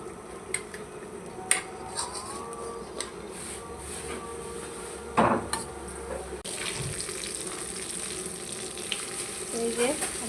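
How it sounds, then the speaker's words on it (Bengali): Fish shallow-frying in oil gives a steady low sizzle, with a few sharp clinks and a louder spatter burst midway; the frying turns brighter and denser toward the end, with no talking. "আমি হালকা পরিমাণ করে মাছটা ভেজে নিচ্ছি"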